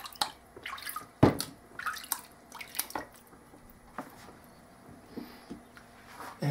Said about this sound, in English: I'm going to rinse off the stone. So it's essentially has no slurry on it anymore.